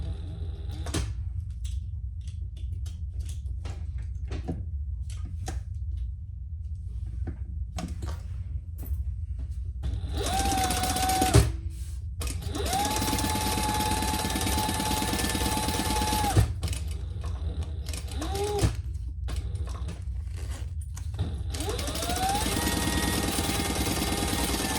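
A sewing machine stitches the seam allowance on a crossbody bag, running in long steady bursts with pauses between them and a hum that stays fairly close and even.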